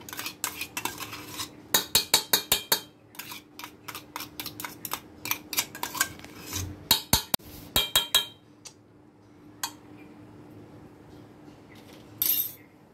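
A spoon clinks and scrapes rhythmically against a bowl as chopped mango is mixed into a mango custard with a ½ teaspoon of mango essence, with bursts of close metallic taps and quieter pauses in between.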